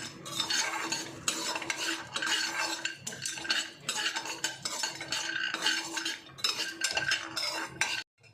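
A spoon stirs and scrapes through poppy seeds roasting in a pan, giving repeated close metallic scraping strokes with a soft dry rustle and faint sizzle, in a steady rhythm for several seconds.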